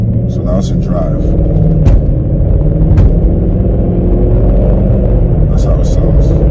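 A Mercedes-Benz W211 E500 with a muffler delete idles in drive, a deep steady exhaust rumble throughout with a voice talking over it.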